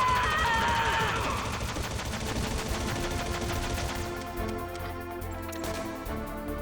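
Gunfire in the PS1 Metal Gear Solid video game, rapid repeated shots forming a dense burst of fire over a busy game soundscape, loud and continuous before thinning toward the end.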